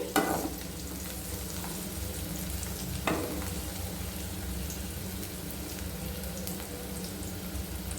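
Curry leaves and vegetables frying in a pan for a mixed vegetable stir-fry, a steady soft sizzle with occasional clinks of stirring, close and continuous with no voices.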